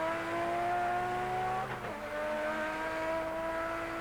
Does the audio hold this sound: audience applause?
no